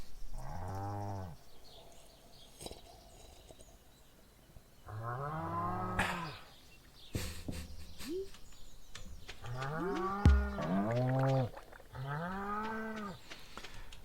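Cows in the farming video game Stardew Valley, lowing several times: long, loud, close moos with drawn-out tonal calls spaced through the stretch, sometimes overlapping, over a quiet ambient game background.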